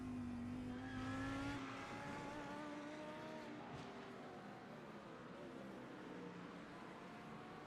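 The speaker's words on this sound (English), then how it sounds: "just listen to him coast" A GT race car in iRacing at Sebring coasts through a turn, its engine note falling and easing off from a held tone into a softer, fading hum, fairly quiet and continuous.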